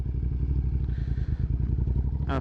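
Suzuki SV650 motorcycle engine and exhaust while riding, a steady low rumbling drone with pulsing firing rhythm running continuously and close, with a brief rising whine at the end.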